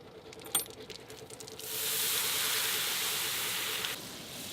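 Water poured into a hot cast iron pan at a campsite bursts into a loud, steady hiss of sizzling and steam for about two seconds, after a few light metallic clinks.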